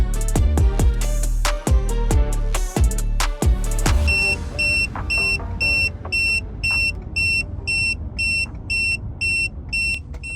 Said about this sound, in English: tire pressure monitor system is going off right now